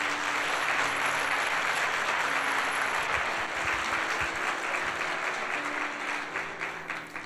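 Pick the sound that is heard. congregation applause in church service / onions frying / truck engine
congregation applause in church service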